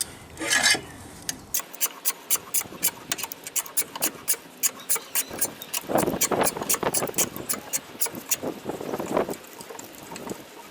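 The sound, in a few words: car jack handle cranked to lift Mazda CX-5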